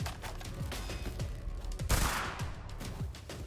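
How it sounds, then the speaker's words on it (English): Gunfire from a shootout in the video game Bullet League, rapid bursts of shots rattling close and loud over a busy game soundscape, with a sharper blast near the middle. "Sakipro and Madrigal in a shootout"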